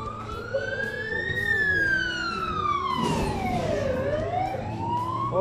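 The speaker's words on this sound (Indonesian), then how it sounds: "Oh ada ambulans lagi limpas." A loud ambulance siren wails up and down in long sweeping tones, passing close by over a steady rumble of road traffic in Kundasang, Ranau.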